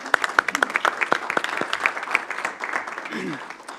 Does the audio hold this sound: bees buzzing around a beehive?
no